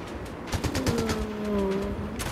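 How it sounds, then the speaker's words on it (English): A quick burst of rapid gunfire in Fortnite crackles in a fast series of sharp shots, moderately loud, over a faint engine-like hum. "Oh, gunshots."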